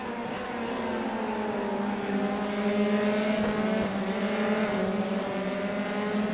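Race cars at high speed in iRacing at the Nurburgring, a steady high-revving engine drone with layered harmonic whine, loud and continuous with slight pitch shifts as cars run close together.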